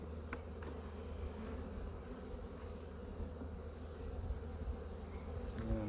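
Honey bees from a tiny colony buzz steadily around an open hive during an inspection, a soft continuous hum close by with faint tool clicks and no talking.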